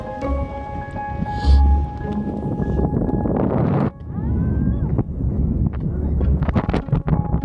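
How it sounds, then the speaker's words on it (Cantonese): Strong wind sweeps across the top of the white pagoda at Gampola in Sri Lanka, buffeting the microphone in loud, roaring gusts that dip briefly midway and then rise again. "越上得高，風就越大"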